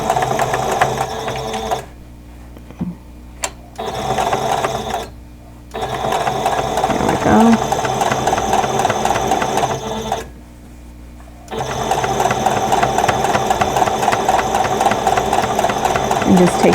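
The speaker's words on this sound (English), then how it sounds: "We're going to sew these 2 rows together." A sewing machine stitches two rows of quilt blocks together, a steady, fast mechanical whir running in long stretches with a few brief pauses, close and loud, while a person talks at points.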